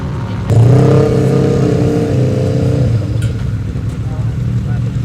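An off-road UTV race car at the start of the 2019 King of the Hammers race gives a loud, close engine rumble and rev that kicks in abruptly, then settles to a rough idle with voices talking over it.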